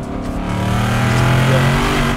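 A Ford Mustang drift car with about 800 horsepower, driven by Vaughn Gittin Jr on a hot lap, roars with a loud, sustained engine rev that climbs steadily and stays close and dominant throughout.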